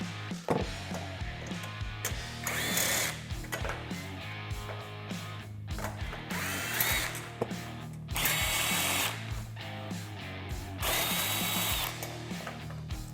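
Power tool whirring in short bursts as rear roof hardware is removed on a Polaris RZR Pro XP, close and intermittent with ratcheting clicks and metallic handling between runs.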